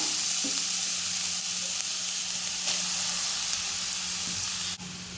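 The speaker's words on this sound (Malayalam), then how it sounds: "ഒരു മിനിറ്റ് ഒന്ന് ഈ നെയ്യിലൊന്ന് വഴറ്റിയെടുക്കാം" Grated carrot sautéing in ghee in a pan for carrot halwa, giving a steady close sizzle and hiss throughout with faint stirring scrapes and a small thump near the end.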